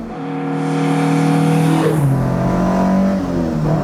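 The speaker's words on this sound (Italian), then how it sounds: "L'alimentazione è affidata a 2 Weber da 45 e li sentite cantare." A loud, close Alfa Romeo Giulia Ti Super engine with twin 45 mm Weber carburetors revs up hard, pitch climbing, then drops and climbs again as it shifts, with a raspy, throaty tone.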